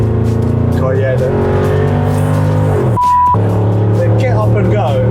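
A Land Rover accelerates hard through the gears from inside the cabin, the engine note climbing steadily, dropping briefly at a shift, then rising again, with a beep sounding during the change and people chatting over the smooth surging drone.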